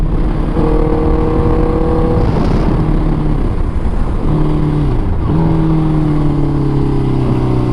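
A Honda CB650F fitted with a quickshifter is ridden hard. Its loud engine climbs in pitch, drops briefly at quick gear changes, then pulls on steadily under constant wind rush.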